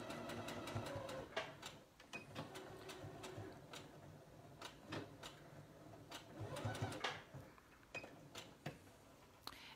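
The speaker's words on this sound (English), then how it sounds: "I'm just gonna go ahead and finish this up with another back tack" A sewing machine stitches a back tack to finish a fabric tube for a scrunchie, its mechanical whir running in short bursts with a few pauses, close and fairly steady, with clicks and clinks mixed in and no talking.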